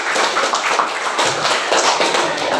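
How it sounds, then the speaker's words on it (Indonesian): A classroom of students claps together in steady, dense applause that fills the whole stretch, close and lively, with no clear speech over it. "Oke, tepuk tangan semua."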